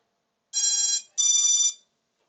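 Drone ESCs on a long-range build booting after a switch to DShot600, giving two clear, high electronic startup beeps in quick succession, then quiet.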